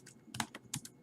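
A computer keyboard clicks out a quick run of about five or six keystrokes, close and distinct, while a name is typed into an account setup form.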